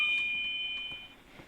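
In a horror video game, a doorbell rings with a short, bright electronic chime that fades over about a second, heard alone and fairly clear with no talking.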